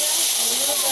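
Ground cumin paste hits hot oil in a pan, giving a loud, continuous, even sizzle that hisses throughout while a voice talks over it.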